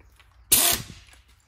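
An impact wrench drives a universal joint tool during ball joint work on an early Bronco. It gives one sharp, loud burst of about a third of a second, close by, in an otherwise quiet shop.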